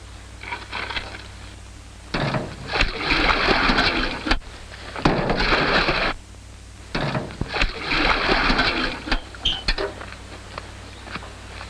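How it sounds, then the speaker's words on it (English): Water sloshed from buckets into a tractor's water tank, arriving in several heavy splashing pours separated by pauses, loud and close. "the water tank needs filling. Of course. And how would Madame like it filled? With water. 2 buckets at a time."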